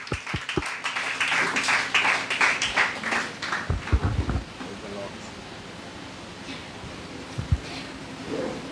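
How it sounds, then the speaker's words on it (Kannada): Church congregation applauding at a Sunday service to welcome the preacher to the stage, a dense burst of clapping in the opening seconds that thins out, with voices and room noise continuing after. "ಎಲ್ಲರೂ ಜೋರಾಗಿ ಚಪ್ಪಾಳೆ."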